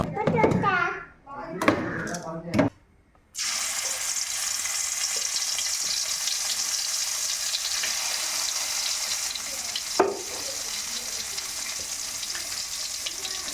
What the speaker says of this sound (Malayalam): അതിങ്ങനെ സൗണ്ടാണ് എണ്ണയിലോട്ട് വീഴുന്നതിൻ്റെ സൗണ്ട്